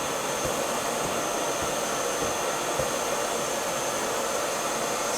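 Milwaukee M18 FUEL 9-gallon battery-powered dust extractor running steadily at close range, a loud constant airy whoosh with an even motor drone throughout, no talk.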